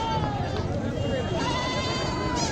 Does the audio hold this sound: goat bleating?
yes